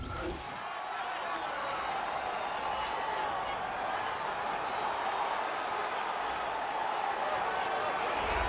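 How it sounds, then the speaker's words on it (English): An arena crowd in a UFC video game roars steadily as a heavyweight fighter walks to the octagon, a dense, continuous cheer with a constant roar throughout. "the crowd pops as this guy makes the walk to the octagon"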